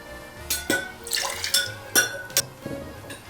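Two ounces of Lillet poured into a martini: a short splashing pour with several clinks of glass and bottle, close and fairly quiet.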